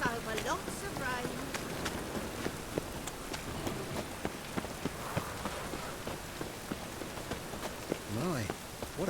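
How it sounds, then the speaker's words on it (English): Steady rain in the video game The Witcher 3: Wild Hunt patters on a surface with scattered drips and taps. A faint voice and soft rhythmic thumps come through underneath. "Lots of fuss over lots of rain."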